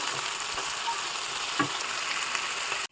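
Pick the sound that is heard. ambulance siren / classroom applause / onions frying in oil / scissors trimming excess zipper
onions frying in oil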